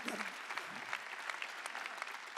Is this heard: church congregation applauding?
yes